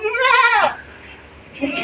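Goats and their kids bleat on a farm where kids are let in to suckle, one loud wavering bleat up close followed by a pause and a shorter second call near the end.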